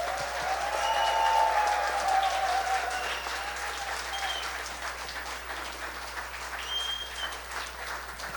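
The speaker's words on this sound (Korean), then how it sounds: "뜨거운 환영과 격려의 박수 또 말씀 듣겠다는 마음을 담아드립니다." Warm applause from a Korean Baptist church congregation at Sunday worship welcoming a pastor, a steady dense wash of clapping that swells early and then tapers gradually, with no talking over it.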